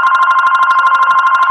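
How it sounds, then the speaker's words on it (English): A telephone rings indoors in a loud, rapid electronic trill that pulses evenly throughout, close and alone with no voices. "don't bother that phone. It's gonna ring."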